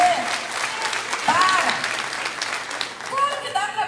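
A church congregation claps together in a loud burst of applause, the clapping layered with cheers and a voice over the top, rising and falling briefly before swelling again.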